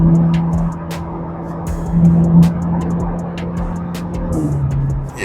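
A 2026 Corvette Z06 on Michelin tires drives along with a steady, low engine drone and tire noise heard from inside the cabin. The pitch shifts slightly as it moves, and faint clicks and knocks sound over the road noise.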